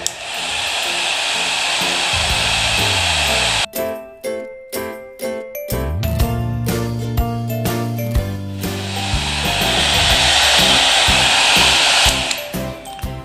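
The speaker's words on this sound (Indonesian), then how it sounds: "Saya akan gunakan bantuan sebuah hair dryer sobat." A hair dryer blows steadily to melt rubber glue during a gas stove burner repair, a loud continuous whoosh at start and end, broken mid-clip by clattering, tinkling metal parts and tool handling with tonal music underneath.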